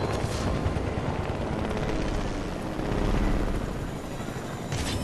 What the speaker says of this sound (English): I'm going to the chopper.